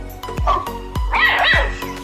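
A few sharp, high-pitched cartoon puppy barks and yips ring out close by, spaced irregularly over a couple of seconds.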